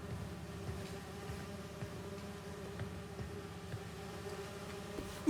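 Insects buzz in Marvel's Spider-Man 2 as a steady, low, fairly faint drone, like bees or flies humming nearby, with no voices.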